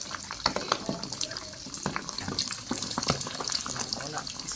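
Hot oil boiling and spattering while lechon kawali pork fries, a dense crackle of sharp pops and sizzling up close, with voices talking over it.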